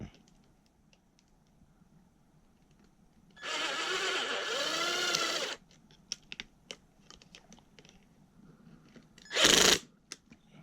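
A rivet nut tool sets a rivet nut on an Arrma Kraton 8S RC truck, giving a loud whirring burst of about two seconds, then scattered clicks and a short final whir, close up.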